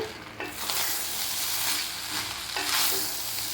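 Cooked rice being stirred into pepper masala in a hot pan for pepper rice, a steady sizzle with scraping spoon strokes at a moderate level and no talking.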